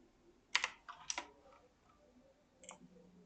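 Keystrokes on a computer keyboard while drafting in AutoCAD, a few quick clicky taps in two small bursts followed by a single firmer press, close and quiet with no talk.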